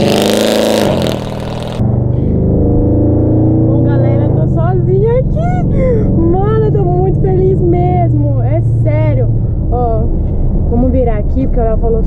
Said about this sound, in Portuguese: Amor, já liguei o carro, agora é só acelerar.